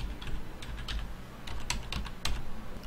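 Fingers type a password on a computer keyboard, a quick irregular run of soft, close clicks.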